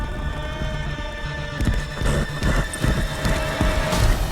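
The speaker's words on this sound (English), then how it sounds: "More horses than John Wick, yes!" Horses clop and whinny loudly in a film action scene, hooves clattering over a dense, roaring soundtrack that grows busier midway.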